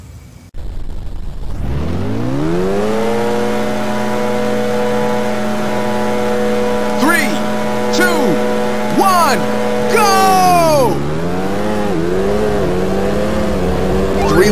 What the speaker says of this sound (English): it's time to fire up those engines